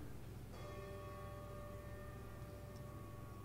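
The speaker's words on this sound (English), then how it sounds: "we do that by saying their names aloud as the choir rings a bell for them" A choir rings a bell during a service of remembrance, giving a steady sustained metallic tone with lingering overtones against a low, constant room hum, with no talking.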